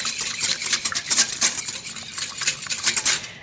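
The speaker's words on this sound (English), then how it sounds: "2 large eggs. Whisk those up with a pinch of salt." Two eggs and a pinch of salt are whisked briskly in a bowl, with rapid rhythmic metallic tapping and scraping that stays steady and close, no voices.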